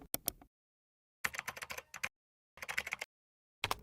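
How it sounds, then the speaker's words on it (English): Computer keyboard keys pressed in quick clattering bursts of rapid taps, close and crisp, separated by short silent pauses. "I can just control it from the keyboard."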